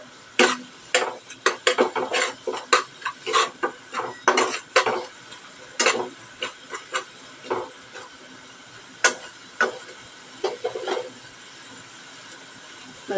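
Masala being stirred fast in a pan with a utensil, a dense run of irregular scraping and clinking strokes, close and fairly loud, with no talking.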